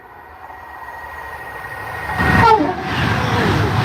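A Class 47 diesel locomotive approaches at Acton Bridge, a faint engine hum swelling into a loud roar and rumble of wheels as it passes close by, with a horn tone near the start.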